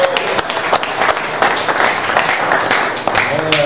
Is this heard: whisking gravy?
no